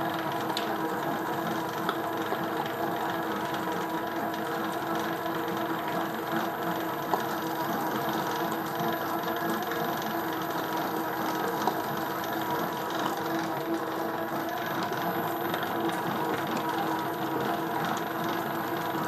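A dough mixer kneads Neapolitan pizza dough with a steady mechanical whir and faint rhythmic clicking, an even, continuous machine drone with no talk.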